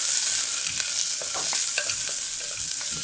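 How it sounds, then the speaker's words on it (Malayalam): Whole shallots fry in a pan for a Kerala kalathappam snack, making a loud, close, continuous sizzle with crackling bursts and stirring scrapes throughout, and no one speaking. "ചെറിയ ഉള്ളി ഡയറക്റ്റായിട്ട് ഇട്ട് കൊടുക്കാൻ പോവുകയാണ്"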